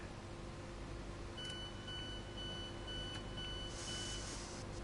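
Train doors in Train Sim World sound a repeated electronic warning beep, a thin tone pulsing several times at moderate distance over a constant low cab rumble and hum.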